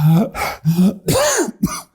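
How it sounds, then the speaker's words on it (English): A person nearby coughs and clears their throat in five or so short, rough bursts, loud and close. "I'm coughing now."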